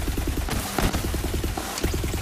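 An SMG fires in Borderlands 3, a rapid, steady stream of punchy shots with a fast regular rhythm, loud and close amid chaotic game combat.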